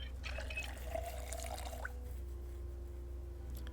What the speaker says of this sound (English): So we're filling up a whole cooking pot now.